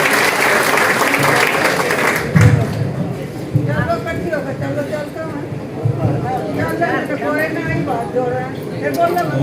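Audience at a reception in Narela, Delhi clapping to welcome a guest, a dense burst of applause with voices talking over it that tapers and then swells again.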